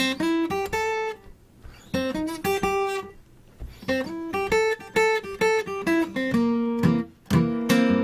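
Fingerpicked acoustic guitar plays a bouncy ragtime piece, bright plucked notes over a steady alternating bass, clear and close with brief pauses between phrases.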